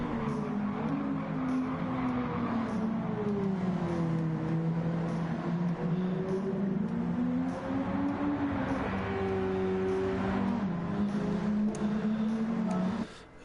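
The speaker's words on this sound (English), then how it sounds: "listen to this exhaust note." A car's exhaust note in Gran Turismo 7, a loud continuous engine drone whose pitch rises and falls smoothly with the revs and holds steady throughout before cutting off at the end.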